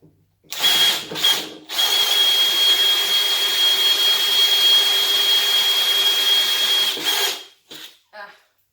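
A power drill fitted with a round rasp bit grinds into wood while cutting a chain stitch machine table top, one loud sustained whine lasting several seconds, framed by brief short bursts before and after.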